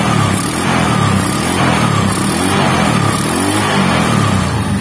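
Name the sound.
Megapro motorcycle engine revving with headlight on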